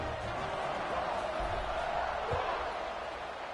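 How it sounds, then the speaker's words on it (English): A football stadium crowd at a Georgia Tech versus Virginia Tech game buzzes after a score, a steady dense roar filling the space with distant cheers and a brief thump rising from it. "this crowd is buzzing after that last score"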